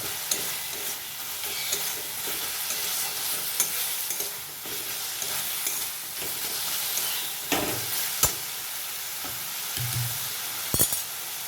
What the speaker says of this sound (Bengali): ধনেপাতা কাঁচা লঙ্কা দিয়ে ভালোভাবে মিশিয়ে নেওয়া হচ্ছে